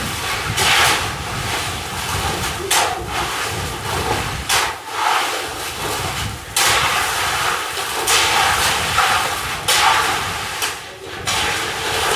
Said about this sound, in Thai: อ๋อ ลมแท้นี่